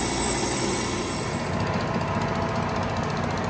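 Steady metal-cutting drone of a lathe taking a 15 thou depth-of-cut pass on a welded tri-lobe Roots blower housing, a continuous rough, chattering grind at close range with no talking.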